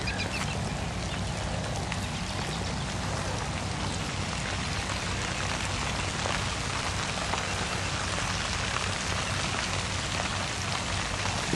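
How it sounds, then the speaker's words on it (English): Rain pattering on plastic sheeting laid over honeysuckle vines and fescue grass in a watershed in Fayetteville, Arkansas, a dense, steady crackle of drops that holds constant and fairly close, with no talking. "You can hear the rain hitting the plastic that's suppressing honeysuckle vines and fescue grass."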